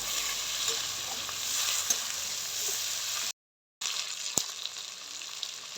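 Chopped onion and tomato fry in a pan for prawn pulao with a steady close sizzle, while a utensil stirs and scrapes with a few clicks, interrupted by a brief silent gap.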